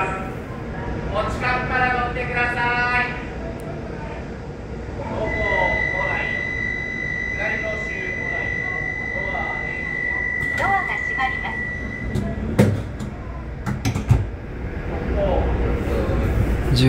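A local train departs Kumagaya station in Japan, heard from on board near the conductor's compartment: rumbling running noise builds under a steady electric tone and door and signal sounds, with voices speaking throughout.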